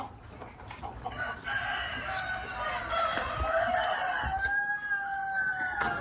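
Several roosters crow, overlapping with clucking hens around them in farm pens holding breeds including Bresse and Black Copper Marans, a busy farmyard chorus at moderate distance.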